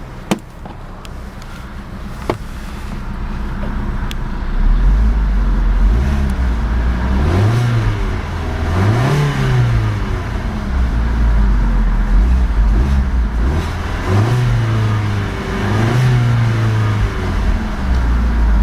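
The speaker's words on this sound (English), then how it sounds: "let's see about a couple of revs of that multi-air inline 4-cylinder and see what kind of soundtrack she produces." A 2012 Fiat 500C Gucci Edition's MultiAir inline four-cylinder idles, then is revved several times in a row, each rise swelling and falling back slowly toward idle, loud and close with no talking.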